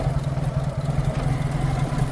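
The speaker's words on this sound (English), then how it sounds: "so there's the engine running" A 4x4's engine idles steadily with a smooth, even low throb, running quietly with no tapping, heard alone up close.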